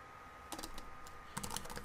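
Soft, quick clicks of typing on a computer keyboard while entering a router configuration, a brief flurry of keystrokes heard close but faint over a quiet background hiss.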